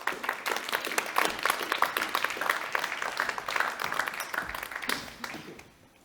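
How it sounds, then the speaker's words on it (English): Audience applause for a prize winner at an energy technology summit, a dense, steady round of clapping from a crowd that fades out at the end. "Please put your hands together for the winner of the Green Infrastructure Track"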